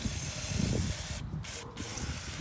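General cleaner sprayed from a can onto a Mitsubishi Outlander starter motor, a steady close hiss running throughout with two brief gaps near the end.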